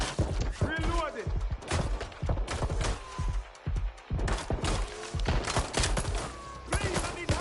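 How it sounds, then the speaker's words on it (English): Rapid bursts of gunfire from the online video game Watch Dogs: Legion crack loudly and near, piling into dense volleys with brief gaps, while voices call out in the background. "Watch out! Shots fired!"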